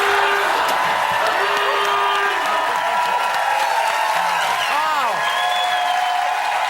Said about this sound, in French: On applaudit nos 3 improvisateurs de la soirée!